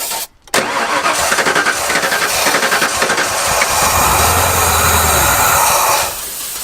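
An old OBS Ford truck, sitting for 14 years, cranks hard and loud on a fuel-primed engine, a steady rhythmic churning that runs for several seconds before cutting off.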